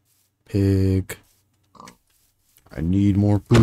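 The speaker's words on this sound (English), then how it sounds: "Pig." A pig in the video game Minecraft gives two short nasal oinks, loud and close, separated by a brief quiet gap with a small sniff-like sound between them.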